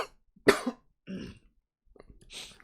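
Someone coughs a few short, harsh times after eating a zebra tarantula, the bursts close and separated by brief silences.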